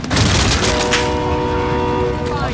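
A train in Call of Duty: Modern Warfare rushes past with a loud, sustained horn blast over rumbling rail noise, close and dominant throughout, with no talking over it.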